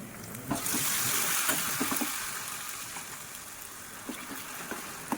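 Onions, turmeric and mustard seeds frying in hot oil as a tempering for a raw mango chutney, a steady close sizzle with small crackles and occasional stirring scrapes, no voices.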